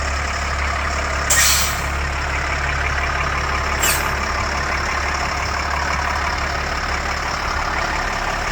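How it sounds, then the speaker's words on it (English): An LMTV M1078 military truck idles with a low, steady engine rumble while its brakes are tested, two short sharp air-brake hisses bursting out a couple of seconds apart. "He's testing brakes right now because we have a couple miles to go."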